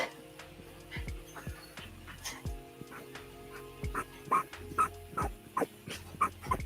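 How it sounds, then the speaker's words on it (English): A small dog barks in sharp repeated yips and whimpers, close and loud, growing more frequent toward the end, with faint voices and low household noise underneath. "we're having an issue with the small dog. The small dog won't calm down"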